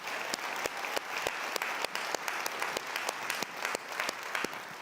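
A full audience round of applause at a national foundation convening, dense steady clapping with sharp individual claps standing out, loud and continuous throughout with no one speaking over it.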